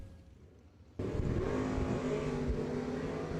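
A drag racing car, an S10 among them, launches down the strip with a huge wheel stand, a sudden loud engine roar that bursts in after a quiet moment and holds steady at close range.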